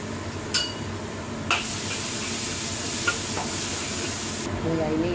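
Spice paste for mackerel sambal dry-cooking in a pan without oil, a steady moist sizzle and hiss with occasional sharp clacks of a utensil stirring against the pan.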